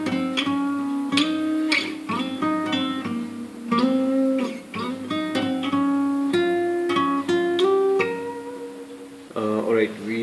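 Guitar plays the opening solo of a Coke Studio Pakistan Season 9 song, a busy run of sustained, sliding melodic notes over a steady backing, heard close and continuous with no talking.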